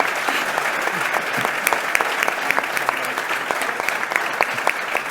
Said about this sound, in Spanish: Nos quedan 2 segundos para el aplauso a Carlos Santana en la mesa.